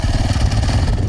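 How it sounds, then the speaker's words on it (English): A Yamaha YZ450F dirt bike engine roars loudly and close for a brief moment, a rough, continuous throttle blast with no talking. "That yz450 has so much power."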